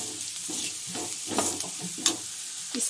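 Red chili powder is stirred into onions frying in a pan, with a steady sizzle and irregular scraping stirs of the spoon, close and moderately loud with no talking.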